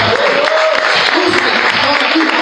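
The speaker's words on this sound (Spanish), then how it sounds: "Dale más fuerte ese aplauso, Señor, hermano." Church congregation applauding loudly and continuously, with voices and cheering mixed into the sustained clapping.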